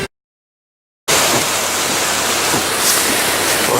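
The Sheridan River rushing fast in a rainstorm, a loud, dense, steady roar of churning water up close, starting abruptly after a second of silence, with no voices.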